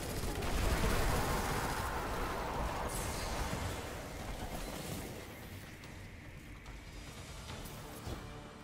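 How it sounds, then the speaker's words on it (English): A machine gun in the video game Destiny 2 fires a long, dense burst into an enemy. The rattle is loud at first, then thins and fades over the following seconds. "I'm just firing a machine gun into him."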